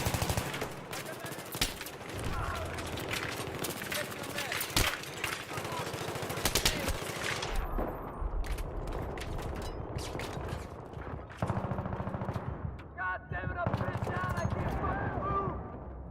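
Battlefield 3 machine gun fire rips in dense sustained bursts for the first half, then gives way to sparser shots and lighter mechanical noise, with voices talking throughout.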